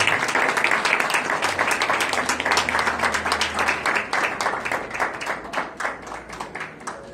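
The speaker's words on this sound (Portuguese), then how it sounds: "Um aplauso, irmãos, ao Senhor Jesus." A church congregation applauds for the Lord Jesus, loud dense clapping at first that thins into more distinct, rhythmic individual claps as it fades, with no talking over it.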